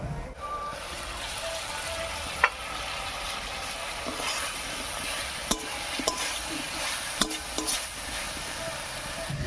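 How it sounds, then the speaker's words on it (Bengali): Pumpkin cooking in an open pan once the lid comes off, giving a steady low sizzle and bubbling with a few sharp utensil clicks and taps scattered through, close and moderately loud with no talking. "চার মিনিট মতো ঢাকা দিয়ে রান্না করে নিয়েছি এবারে ঢাকাটা তুলে নিচ্ছি"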